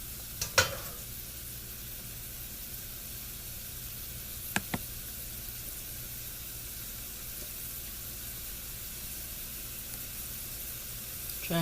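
Chayote cooks in a pan with a soft, steady frying sizzle that hisses quietly throughout, broken by a few brief clicks or knocks of utensils near the start and middle.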